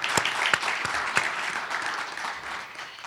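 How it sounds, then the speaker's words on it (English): Audience applause for the event staff at a housing-finance conference, with a few sharp nearby claps standing out over steady clapping that slowly fades. "So quickly, give them a round of applause."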